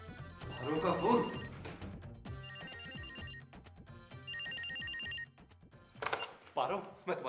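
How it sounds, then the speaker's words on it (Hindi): A telephone rings in repeated bursts of a bright electronic tone, separated by short gaps, with music and movement sounds around it. "पारो का फोन"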